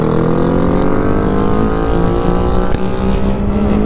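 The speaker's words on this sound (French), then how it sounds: "Allez, j'accélère un coup." Car engine revving hard as the driver accelerates, a loud, steady, rising roar that fills the whole stretch with no pause.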